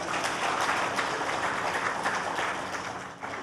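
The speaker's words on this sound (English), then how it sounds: "A round of applause for him." Applause from the audience at a presidential groundbreaking ceremony for an independent power plant in Gwagwalada: a steady wash of clapping held at one level, easing off slightly toward the end.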